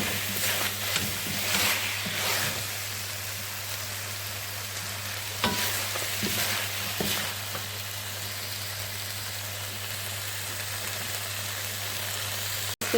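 Mutton fries with garam masala in a karahi, a continuous close sizzle broken by several loud stirring scrapes and clanks of the spoon against the wok, with a low steady hum underneath.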